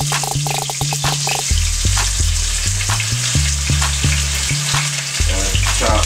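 Parsley flakes and chopped onion fry in hot grease in a home kitchen pan, a steady loud sizzle broken by the scraping and tapping of a spoon stirring, with no voices.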